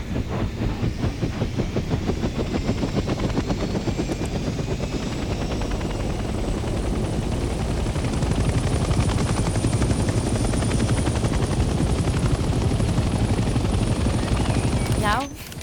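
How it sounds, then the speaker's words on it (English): A helicopter in the video game Hell Let Loose Vietnam lifts off and settles into a hover, its loud rotor chop pulsing steadily and unbroken throughout, with some voice sound mixed underneath. "The helicopter will now take off automatically and remain in a hover state."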